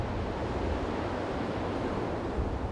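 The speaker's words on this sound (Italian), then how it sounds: "si infrangono con tutta la loro potenza sugli scogli e sui frangiflutti del porticciolo" Stormy sea driven by strong wind, crashing against rocks and the breakwaters of a small harbour, heard as a continuous dense roar of surf and wind without pause.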